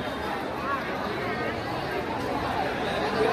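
A packed crowd of devotees at the Chinchpoklicha Chintamani Ganesh pandal in Mumbai, during the 2024 Patpujan ceremony, fills the air with continuous close, overlapping chatter and murmuring voices.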